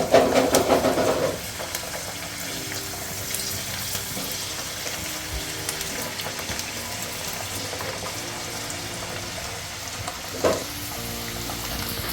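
Ingredients for an amla and tamarind pickle fry gently in a pan on a low flame, a soft, steady sizzle running under the whole clip, with a brief louder stir or clatter at the start and another near the end.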